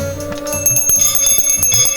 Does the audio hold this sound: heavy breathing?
no